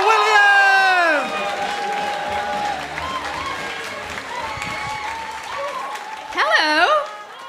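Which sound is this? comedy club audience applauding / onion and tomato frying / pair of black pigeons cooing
comedy club audience applauding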